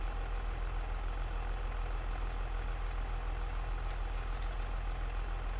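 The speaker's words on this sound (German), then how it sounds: "Aktiviere und senke danach die Sämaschine und fahre übers Land." A seed drill lowered and pulled across a field in the video game Farming Simulator 22, a steady loud tractor engine drone throughout with a few brief high clicks.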